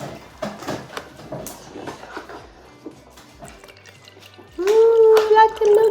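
Pumped breast milk gets poured into a container during the final second and a half, a loud gurgling fill whose pitch rises, after an adult and someone talk quietly.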